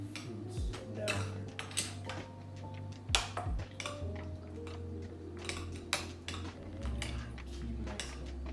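Jungle juice packed with fruits and vegetables is stirred in a container, giving repeated close clinks and knocks of utensil against the vessel with sloshing between, irregular and fairly loud.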